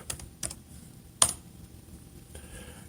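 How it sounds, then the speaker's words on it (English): Keys clack on a computer keyboard in a few scattered, soft taps and one sharper strike, close and quiet with no talk. "I'll type it in for you."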